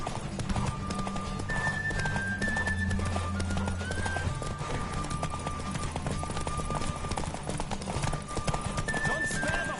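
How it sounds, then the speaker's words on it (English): A horse gallops hard in The Witcher 3, its fast rhythmic hoofbeats pounding continuously and close, with occasional whinnies and game music underneath. "Don't spare the horse!"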